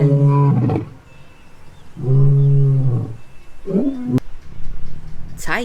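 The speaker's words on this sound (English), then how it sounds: "Lion." A lion roars loud and close, with two long throaty roars followed by a shorter, rising growl.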